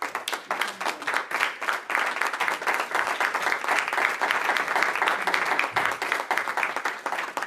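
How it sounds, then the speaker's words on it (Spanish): A church congregation claps loudly and continuously through a sermon break, the applause close and dense with distinct individual hand claps and a faint voice or two beneath. "Dele fuerte el aplauso."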